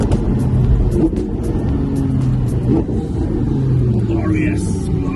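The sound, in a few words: Lamborghini Gallardo Super Trofeo Stradale engine downshifting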